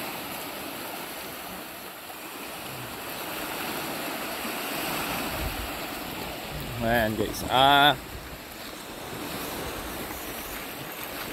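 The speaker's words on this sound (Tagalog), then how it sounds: "ang alon sobrang lakas" Strong sea waves at a misty shore make a constant broad rushing wash, with a person speaking briefly over the surf near the end.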